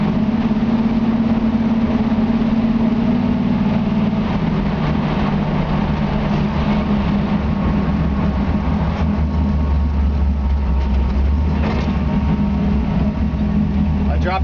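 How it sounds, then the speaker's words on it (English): A 1956 Chevy 3100 pickup truck engine runs loud and steady with a low rumble, its pitch dropping as the transmission shifts, with the idle settling heavier near the end and no voices present. "You can hear that transmission shifts out perfect."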